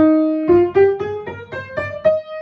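Eight piano notes climb step by step in a steady rhythm, a major scale played up close, the final tone sustaining after the run.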